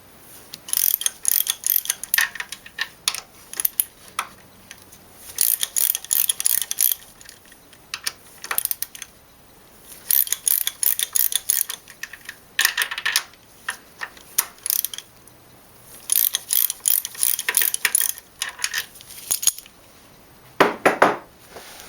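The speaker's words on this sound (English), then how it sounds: "I'm using an E8 Torx socket, and we're just going to loosen these just a little bit so the sprocket can rotate later" A ratchet with an E8 Torx socket loosens Vanos bolts on a BMW E36 engine, giving repeated bursts of rapid metallic clicking with short pauses between them, close up and loud.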